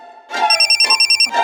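A telephone rings indoors in a Hindi comedy series, its bright electronic trill pulsing in rapid repeated bursts, loud and close, with no voices over it.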